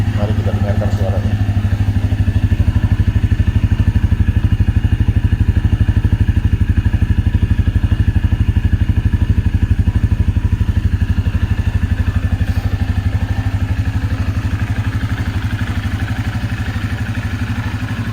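Benelli Imperiale 400 motorcycle with its stock exhaust idles steadily nearby, a loud, even single-cylinder thump that holds throughout with a slight mechanical clatter.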